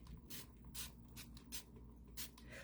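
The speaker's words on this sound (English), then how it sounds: "I will usually spritz with my" A spray bottle of water, or vodka used as starch, spritzes onto fabric while a doll's Swiss waist is being flattened, giving several short soft hissing bursts, close and quiet with no talking.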